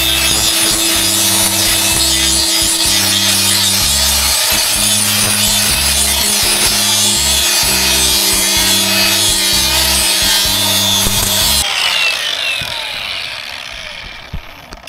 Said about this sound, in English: let me keep grinding on that and I'll show you what I got.